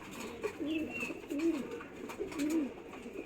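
Domestic flying pigeons give soft, throaty coos, about three rhythmic rolling calls repeated at close range over quiet background noise.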